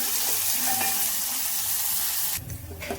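Chopped onions fry in a pan for a brinjal palya, giving a loud, close, continuous sizzle with stirring. The sizzle drops away sharply near the end.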